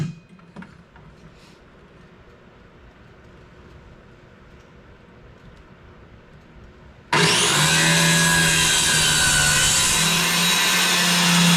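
Hand sawing on wood for an otter lodge floor starts after several seconds of quiet room sound with faint knocks, becoming loud, continuous, rasping strokes close by.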